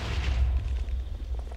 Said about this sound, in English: I killed so many zombies in one house that the house blew up.